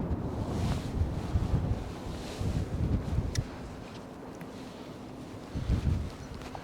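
Strong gusts of wind buffet the microphone outdoors in Lerwick, Shetland, near the harbour, rising and falling in loud rumbling bursts with a steady blustery hiss and no talk.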